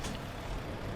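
Truck trailer brake in American Truck Simulator on a frosty winter road: a loud, close, continuous hiss of released air over low engine rumble for about a second, with no voices.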